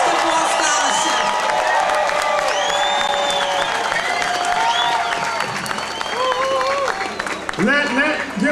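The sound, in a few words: audience applause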